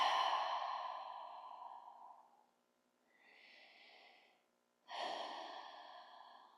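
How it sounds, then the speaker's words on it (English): During a yoga session, a person breathes out through the mouth: a long, soft, airy exhale fading away, a quieter breath, then another breathy exhale, all close and gentle with no talking. "exhaling through the mouth"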